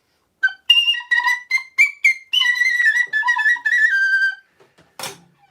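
A very high-pitched tin whistle plays a quick tune of short, bright, separate notes and a few longer held ones, close and clear with no talk, ending in a brief breathy noise.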